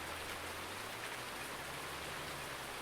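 Steady rain falls in Farming Simulator 19 with the Seasons mod, a constant, dense hiss of drops on surfaces with a faint low hum underneath, and no voices.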